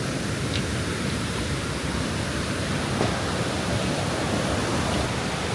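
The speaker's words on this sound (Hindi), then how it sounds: "अलकनंदा अपने पूरे उफान पे है" The Alaknanda river near Mana rushes in full spate, a dense, continuous roar of churning water that stays loud and even throughout with no voices.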